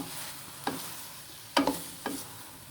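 Spicy stuffed okra (bhindi) sizzling softly in a pan on a low flame, with three distinct stirring scrapes of a spoon, the middle one strongest, over a quiet frying hiss.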